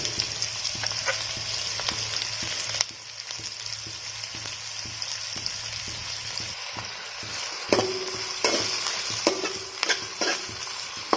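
Two large sliced onions and four slit green chillies fry in a pan for a spicy country chicken curry, sizzling steadily under repeated close stirring scrapes and clacks; nobody speaks.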